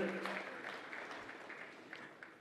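An audience claps for the First Lady of the Central African Republic at a Merck Foundation Africa Asia Luminary meeting, a steady wash of applause at moderate level with voices mixed in underneath.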